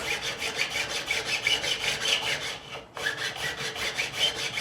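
A metal file bevels the fret ends on a 1978 Fender Stratocaster during a refret, rasping in quick, even back-and-forth strokes up close, with a brief pause before the strokes resume.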